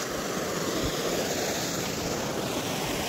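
A small waterfall on the Lara river rushes in a steady, close, continuous wash of falling water with no pauses and no voices.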